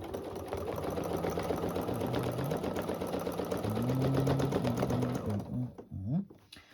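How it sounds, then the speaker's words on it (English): A sewing machine stitches a mini quilt runner in a steady, close mechanical whir with rapid needle ticks, speeding and slowing before stopping near the end. "I'm going to do a few stitches on the outside, and then we start."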